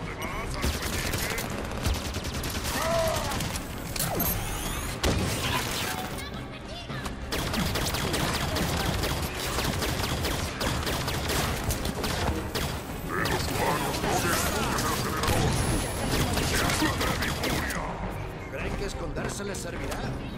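Gunfire aimed at a generator in Halo 5, dense bursts of shots and mechanical clatter running continuously over a long stretch, mixed with voices.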